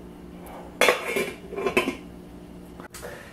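Metal pot lid clattering onto a cooking pot of Filipino chicken adobo, a close burst of clanks and rattles followed by a second scraping clatter and a small knock, with no talking.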